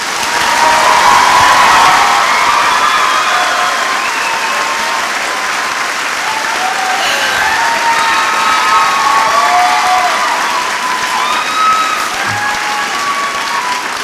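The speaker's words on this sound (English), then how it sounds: "would you give her a really loud round of applause to warm her up?" Sustained loud applause from an audience at a high school commencement ceremony, with scattered whoops and cheers rising over the steady clapping throughout.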